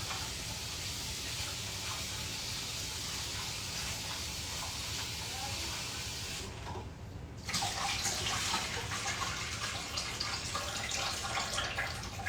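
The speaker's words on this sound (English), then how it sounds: "let's rinse these off one more time" Running tap water pours steadily over cut potatoes being rinsed, a dense close hiss that dips briefly and then returns slightly louder as the flow shifts.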